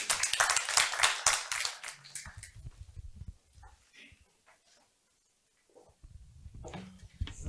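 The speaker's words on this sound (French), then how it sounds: "Est-ce qu'on peut applaudir pour nos panélistes" Audience members at a business summit applaud a discussion panel with a short burst of close, loud clapping that quickly thins out and fades into near silence, followed by a few scattered sounds.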